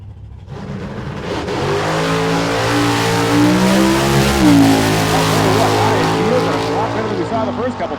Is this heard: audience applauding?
no